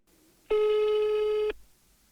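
One long phone call tone on an unanswered call sounds as a steady electronic beep lasting about a second, loud and clear over a quiet background.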